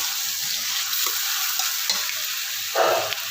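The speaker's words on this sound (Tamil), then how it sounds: "உப்பு சேர்த்து நல்லா அது தெரியாத மாதிரி வதக்கிக்கலாம்" Tomatoes sautéed with salt in a pan for fish curry give a steady close sizzle while a utensil stirs and scrapes now and then, with a louder burst near the end and no voices.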